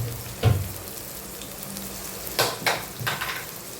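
Garlic and spices, including red chilli, turmeric, coriander-cumin powder and garam masala, frying in oil in a pan on low flame: a steady soft sizzle with a few louder crackling stirs, no voices.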